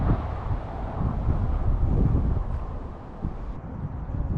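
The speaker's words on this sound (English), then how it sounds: "So we gotta wait for the wind to ease up" Gusty wind blows outdoors on a lake during bass fishing, a steady rushing roar buffeting the microphone with low rumble, swelling and easing over a few seconds with no voices.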